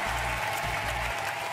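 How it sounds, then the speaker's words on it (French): A studio audience on the French game show Les 12 coups de midi applauds the contestants, with dense, continuous clapping and a low rumbling hum underneath throughout. "On les applaudit très, très, très, très fort."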